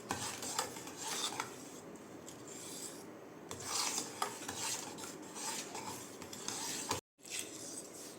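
Milk and sugar mixture for colostrum milk pudding being whisked in a bowl, quiet repeated rasping and scraping strokes in an uneven rhythm with a brief break near the end.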